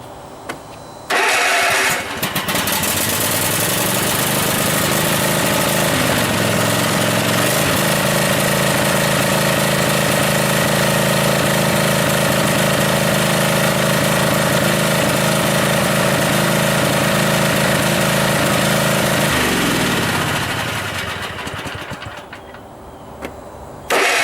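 Cub Cadet RZT zero-turn mower engine catching and running at a loud, steady close idle for most of the time before winding down and cutting off near the end.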